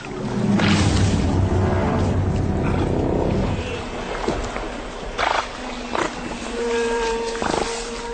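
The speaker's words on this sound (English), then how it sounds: "They make snorting sounds as a warning to the caiman." Loud, rough snorts and growling bursts from giant otters warning off a caiman in the Amazon, in a steady wild-outdoor din, followed by a few shorter sharp snorts spaced apart.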